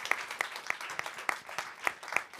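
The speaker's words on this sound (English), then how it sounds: "Round of applause for all of our final round judges as well." Light, scattered clapping from a small audience at the final round of a negotiation competition, a handful of separate claps in an uneven rhythm, fairly quiet.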